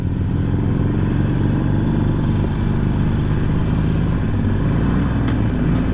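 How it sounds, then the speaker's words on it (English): A Harley-Davidson Iron 883 motorcycle runs with a deep, steady exhaust rumble, loud and close, its low throbbing pulses continuous throughout without any talking. "This bike has a little pop in the exhaust note"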